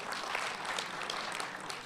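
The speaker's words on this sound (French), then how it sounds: "C'est gentil d'applaudir, mais je, préfère pas que vous applaudissiez" Applause from a lecture audience at a talk on secular morality, a steady dense wash of clapping through the whole short stretch, moderately loud with no break.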